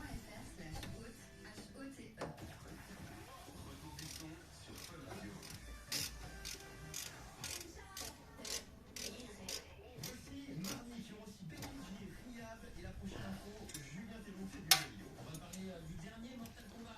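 Ratchet tightening the rear fixing screws on a Peugeot 309 GTI during a rear axle rebuild, a series of close, quiet ratcheting clicks in bursts, with someone speaking French between them.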